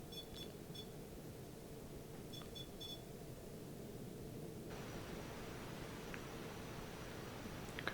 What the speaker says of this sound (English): Could that have been Morse code?